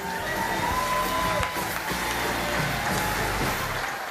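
Sustained applause mixed with cheering from the audience at an Air Ambulance NI Stars In Their Eyes charity show, a dense, steady wash of clapping and crowd noise that fills the room throughout.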